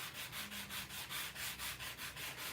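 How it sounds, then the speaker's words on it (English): Ink is being rubbed off embossed specialty paper. The rubbing comes as a close, steady run of rhythmic scratchy strokes, about four per second, heard alone. "let's just rub some of this off and see what we get"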